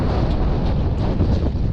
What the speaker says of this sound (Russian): Ох, ветер, ветер, не мог ты подождать немножко.